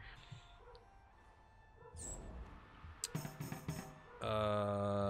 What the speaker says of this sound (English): my dog is barking as well